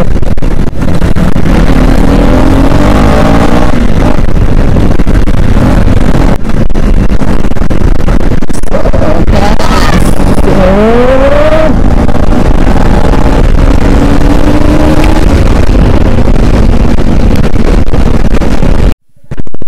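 Kawasaki H2R motorcycles ride at full power and speed, their engines rising and falling in pitch under loud, constant wind roar close to the microphone.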